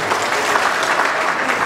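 Loud, dense audience applause for the speakers at a Christology debate, a continuous roar of clapping from a large crowd with no voices over it.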